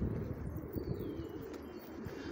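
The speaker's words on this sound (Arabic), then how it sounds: "هاي الحمام كلياتها" Pigeons give soft, low, murmuring coos at a steady low level, heard faintly with no talking.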